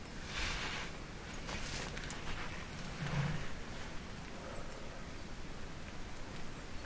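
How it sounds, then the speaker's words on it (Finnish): Steady rain patters over a broad hiss of outdoor noise in Punkaharju, Finland, continuous and fairly soft, with no voices. "Pidetään sadetta."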